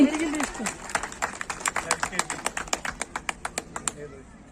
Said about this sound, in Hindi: जोरदार तालियां बजा दीजिए दिल से